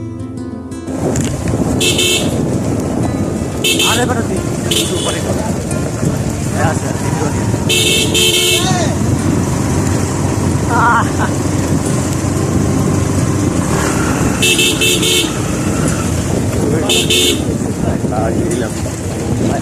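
Motorbike ride through road traffic in Khagrachari on the way to Richang waterfall, with steady engine and road rumble throughout and several loud horn toots from passing vehicles; people talk over it.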